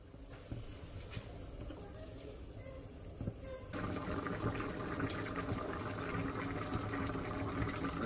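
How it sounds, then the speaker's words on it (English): Water pours into a cooking pot for mongo guisado with pork, a soft trickle that turns into a louder, steady rushing splash partway through, close by and continuous. "So add more water."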